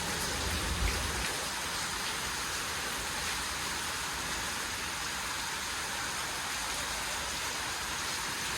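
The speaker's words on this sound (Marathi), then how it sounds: "आज पाण्याचं वातावरण बघा" Rain falls steadily as a dense, even hiss of drops that carries on throughout with no break, with a brief low thump near the start.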